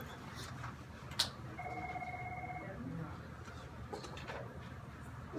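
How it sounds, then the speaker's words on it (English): A classroom telephone rings once with a short electronic trill in the middle, fairly faint beneath room noise, with a few scattered knocks around it. "I'll get that phone call."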